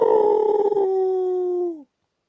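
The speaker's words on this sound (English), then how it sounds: "you will hear a howl." A single drawn-out canine howl, loud and close, holding a steady pitch before sliding down and cutting off into silence.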